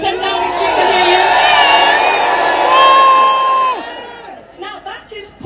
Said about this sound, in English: I'm glad that you're booing at that. We'll have to do a bit louder, so 10 Downing Street can hear you.